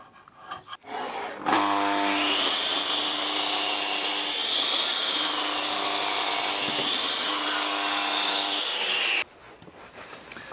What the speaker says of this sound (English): by planing one side, like I'm doing right now, you can get a flat face